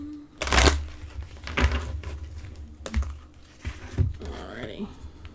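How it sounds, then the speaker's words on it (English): Soft papery riffling and tapping of tarot cards being shuffled close by, in a few uneven bursts over a low background hum. "let me go ahead and shuffle these cards for your one-on-one spread"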